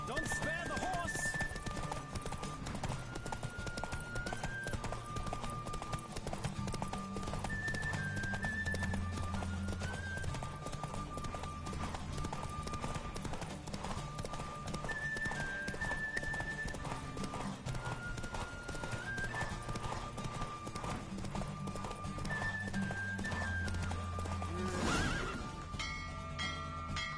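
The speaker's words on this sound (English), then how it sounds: "Don't spare the horse!" Rhythmic hoofbeats of a galloping horse in The Witcher 3 pound steadily, with occasional neighs, over a looping melodic game soundtrack.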